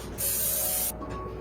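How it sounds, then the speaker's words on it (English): A single steady hiss of cooking spray onto a pan lasts under a second, loud and close, with quiet room tone before and after. "Exhibit C of spraying the pan."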